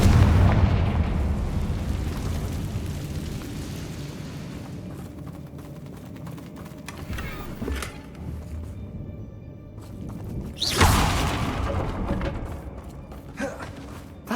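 Confringo blasting-spell explosions in the Hogwarts Legacy game, heavy rumbling booms opening loud, fading into a sustained low roar, with a second sharp blast near the end and scattered debris crackles.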